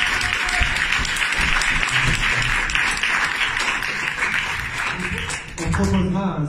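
An audience applauds at the opening ceremony of the Boulogne Horror Show horror festival, with steady sustained clapping from a crowd throughout, a voice talking over it and the clapping thinning toward the end.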